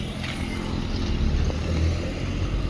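Road traffic rumbling past during an evening outing for the village Shimga festival, a steady low engine drone with a passing vehicle swelling and fading, no voices.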